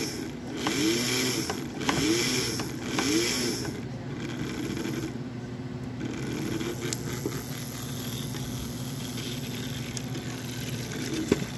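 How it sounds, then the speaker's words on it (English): An American Flyer AC motor with its armature windings replaced by super magnets runs close by, a rough buzzing drone with a rhythmic pulsing grind in the first few seconds, then a steady hum. "this is a AC plier motor, and I've replaced the armature windings with super magnets"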